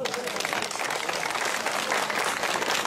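An audience at a Romanian village event applauds a folk band with dense, continuous clapping, crowd noise and some voices mixed in.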